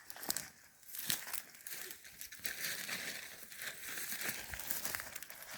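A plastic bag being rummaged through outdoors beside a campfire while preparing to fry mushrooms with salo, giving near, continuous crinkling and crumpling with a few sharper rustles throughout.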